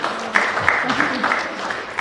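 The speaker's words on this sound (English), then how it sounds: "Get a round of applause." An audience breaks into applause at a team review gathering, a broad wash of clapping that runs through the whole stretch while a voice keeps talking over it.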